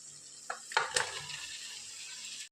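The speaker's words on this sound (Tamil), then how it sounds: "வச்சுக்கிற சிக்கன் ஆட் பண்ணலாம்" Chicken pieces drop into frying masala in a pan, with a few clanks and scrapes of stirring followed by a steady close sizzle that fades at the end.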